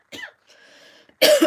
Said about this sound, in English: Oh my goodness, I'm gonna cough.